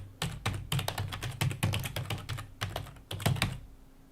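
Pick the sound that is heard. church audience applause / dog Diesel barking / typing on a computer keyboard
typing on a computer keyboard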